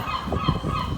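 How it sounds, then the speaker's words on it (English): Seagulls call close by in a short burst of harsh, overlapping squawks and honks against outdoor background noise, with no talking. "See these seagulls there"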